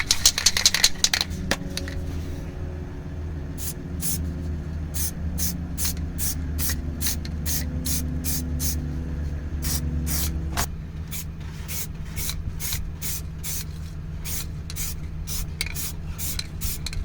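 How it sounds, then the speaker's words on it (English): A steady close aerosol hiss of cold galvanising spray on a rusted exhaust clamp of a Mercedes Vito W639 runs throughout, joined by quick, regular clicking that continues to the end. "I'm going to spray some galvanising cold spray on this"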